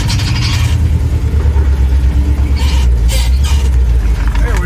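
A Chevy C20 truck crawling along in granny low gear with no throttle, a steady low engine rumble close by throughout, with brief rustling bursts over it and no talking.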